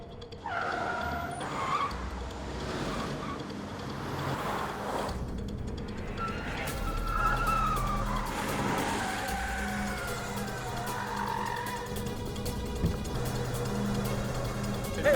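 A car skids through a chase with its tires squealing, a rough, continuous screech and engine rumble that sounds close and holds fairly loud throughout.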